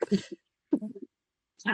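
A woman sneezes during a spoken coaching interview, three short, abrupt bursts separated by brief silences, close and fairly loud.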